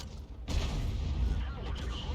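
A self-propelled artillery gun fires in the tank game World of Tanks, a single heavy, booming shot that erupts suddenly and rolls on with a rumbling tail, while someone talks nearby.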